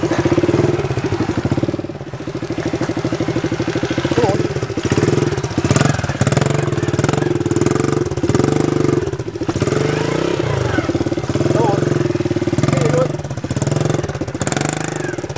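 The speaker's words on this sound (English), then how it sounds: "Oh, give it a bit of rev." A Honda CRF70 dirt bike engine drones and revs continuously up a mountain slope, loud and close throughout, with people talking over the engine.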